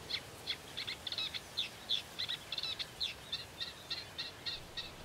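Birds calling in a reedbed at a wetland, a series of short, high, bright chirps repeating in an irregular rhythm, fairly faint over a soft, quiet background.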